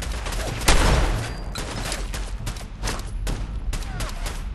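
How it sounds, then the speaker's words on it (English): Machine gun fire in Fallout 4, with sharp, loud bursts of rapid shots in an uneven rhythm, some overlapping, and no talking. "It's a machine gun."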